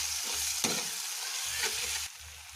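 Spice pastes of chili and cumin being stirred in a hot frying pan for a spicy fish curry, a close, continuous sizzle with scraping strokes and a few sharp utensil knocks, no talk.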